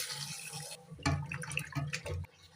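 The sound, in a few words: water washing small fish for a curry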